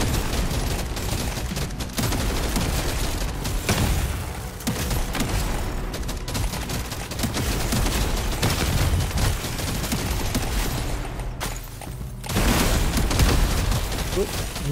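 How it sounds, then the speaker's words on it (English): Rapid gunfire and bullet impacts from Deep Rock Galactic: Survivor crackle in dense, continuous bursts with booming hits, loud and busy throughout, occasional brief dips between volleys. "Move out of the way of the bullets."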